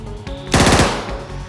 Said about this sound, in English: Kelso pivoted the Axie gun and immediately begins firing at Faust's last member.